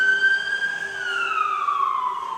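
A wailing ambulance siren rises and slides down in pitch, loud and steady, with no talking over it.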